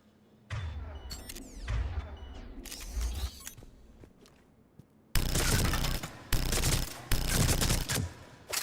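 Heavy-recoil gunfire in the video game Mass Effect 3, loud rapid bursts of shots in two stretches, the second a sustained dense volley broken by brief pauses, with no talk over it.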